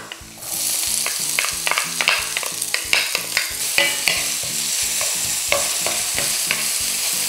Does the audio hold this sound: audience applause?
no